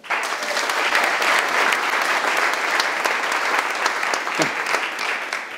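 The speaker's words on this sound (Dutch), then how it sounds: "Dus een warm applaus voor Tijmen." Warm audience applause greeting Tijmen Blankevoort as he comes on to speak about artificial intelligence: dense, steady clapping from a crowd that holds at full strength for several seconds without letting up.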